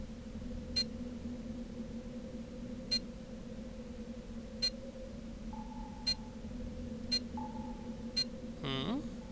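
Tracking device in the Pandora Directive video game, down in a sewer, gives six evenly spaced short electronic beeps over a steady low ambient hum, with a brief sweeping tone at the end.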